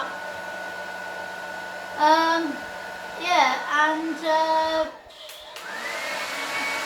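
A hair dryer runs steadily as a loud, constant whirring drone through a home haircut, while a few short bursts of talk break in over the top.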